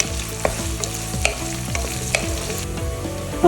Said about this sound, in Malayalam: അതുവരെ നമുക്കിതൊന്ന് ഇളക്കി കൊടുക്കാം.